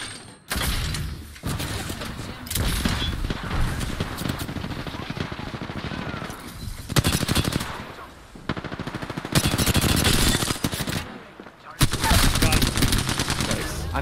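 Repeated bursts of automatic gunfire in the video game Apex Legends crackle close and loud, broken by brief pauses between volleys, with players talking underneath.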